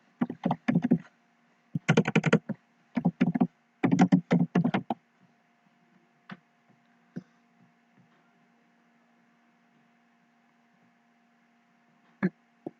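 Typing on a computer keyboard indoors, several quick bursts of clustered key clicks followed by a few isolated taps, close and crisp against a faint steady hum.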